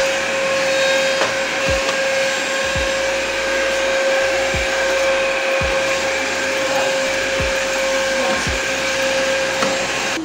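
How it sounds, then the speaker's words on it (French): A new lightweight vacuum cleaner runs steadily with a constant high whine while cleaning the floor, with occasional dull bumps and thuds as it moves across it. "on va voir comment cet aspirateur s'en sort au niveau du nettoyage du sol"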